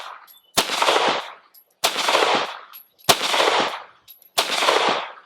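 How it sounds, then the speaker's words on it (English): Four sharp pistol shots from a SIG P365 XL fired one-handed at an outdoor range, evenly spaced about a second apart, each loud crack followed by a short decaying tail. "At 5 yards with the SIG P365 XL, and I'm going to shoot 5 rounds with the head box."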